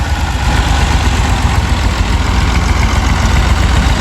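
A motor engine at a village farmstead runs steadily at idle, a loud close rumbling drone with no distinct revs, heard alone.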